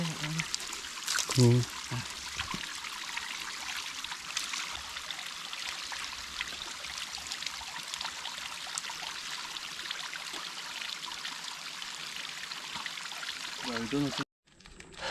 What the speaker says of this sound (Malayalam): അങ്ങനെ ചെറിയൊരു വാട്ടർഫാൾസ് എത്തി